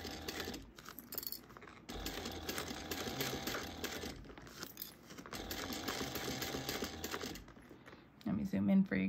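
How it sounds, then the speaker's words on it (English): A sewing machine runs a slightly longer stitch along fabric at an eighth-inch seam for a light-up Deathly Hallows project, buzzing steadily in long close-up bursts with brief pauses between runs. "we're gonna sew this at an eighth of an inch first"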